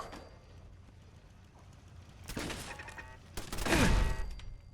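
Gunfire from a post-apocalyptic role-playing video game comes in two loud bursts, the second heavier and longer, with quiet ambience in between.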